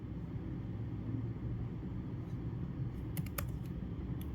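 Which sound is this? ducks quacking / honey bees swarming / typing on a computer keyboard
typing on a computer keyboard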